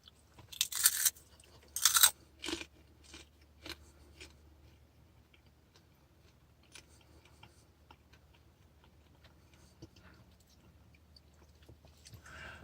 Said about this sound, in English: there's a crunch when you first bite into it, but then it gets real chewy real fast